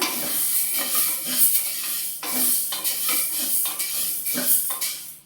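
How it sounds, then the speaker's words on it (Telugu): Mung beans (pesalu) are stirred in a metal cooking pot, giving repeated loud scraping and rattling strokes in an uneven rhythm over a faint steamy hiss, with no talk. "ఇది పెసలు కలుపుతున్నప్పుడు బాగా సౌండ్ వస్తూ ఉంటుంది కదా"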